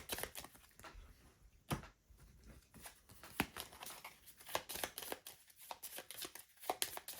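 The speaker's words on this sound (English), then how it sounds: "I put together the decks and forgot to shuffle the cards" Deck of game cards being shuffled by hand for the Senjutsu board game, a series of sharp riffling and tapping bursts at close range, irregular and crisp, with no talking.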